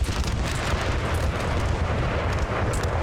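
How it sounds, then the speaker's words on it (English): Continuous heavy rumble with dense crackling bursts from a house exploding during a siege of an imperial port in Napoleon: Total War, loud and sustained without pause, no voices. "I love watching the house explode."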